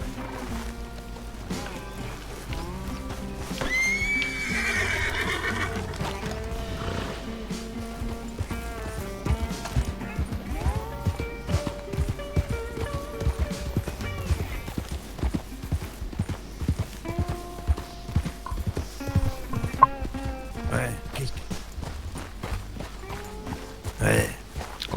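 Horses clip-clop at a steady walking pace in the Red Dead video game, hoofbeats running continuously at moderate level beneath talking and background music.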